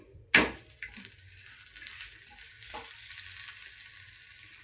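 Ragi flour roti sizzles in oil on a pan after a sharp clatter at the start, then a steady soft hiss of frying continues close by, with a faint scrape partway through.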